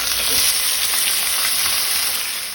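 Breadfruit pieces sizzle and fry steadily in hot oil tempered with finely chopped green chillies, a dense continuous crackle with faint stirring, close and loud, no talk.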